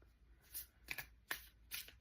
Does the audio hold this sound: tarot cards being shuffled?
yes